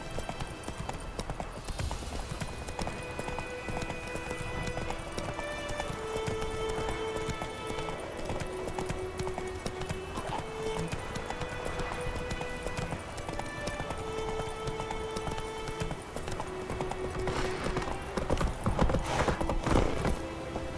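Roach, a horse in The Witcher 3: Wild Hunt, gallops with steady rapid hoofbeats and a brief whinny, set against game music and ambient sound, with louder hoof thuds building near the end.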